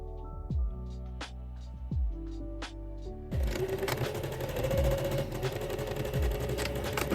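A sewing machine stitches the shoulder seams of a dress, joining front and back. A steady, rattling mechanical whir starts partway through and runs loud over soft background tones, with no talking.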